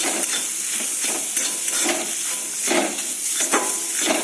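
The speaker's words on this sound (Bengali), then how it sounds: "ভালো করে ভেজে নিতে হবে মটরশুঁটি বাটাটা দিয়ে দিলাম" Ground green pea paste fries with green chilli in a pan and is stirred. A continuous loud sizzle carries rhythmic scraping strokes about every half second.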